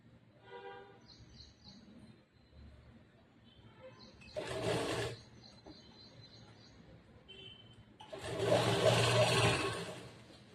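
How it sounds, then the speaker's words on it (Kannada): A sewing machine stitches a churidar pant in short bursts, one brief run and then a longer, louder run near the end, with quiet room sound and a faint voice in between. "ಸ್ಟ್ರೇಟ್ ಆಗಿ ಹೊಲಿಗೆ ಹಾಕೊಂಡ್ ಬರ್ಬೇಕು"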